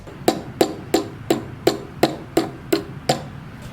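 Hammer tapping wooden toy car wheels into place in a woodworking shop: nine sharp, evenly spaced knocks, close and crisp, each with a short ringing tail, no talking.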